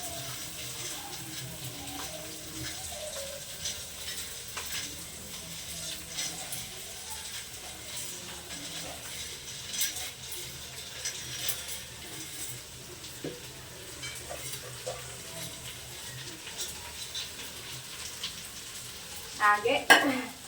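Sprouted beans are tipped into a pan and stirred, giving a quiet, continuous soft scraping and faint sizzle with a louder clatter near the end.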